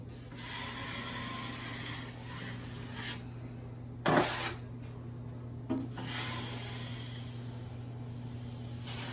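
Taping knife spreading soft drywall mud along an inside corner, quiet scraping and rubbing strokes over a steady background hum, with a couple of sharper swipes.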